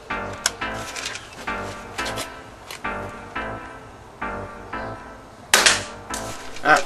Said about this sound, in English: Metal mechanism really gives a good clunk when you set it. Let's do it now, listen.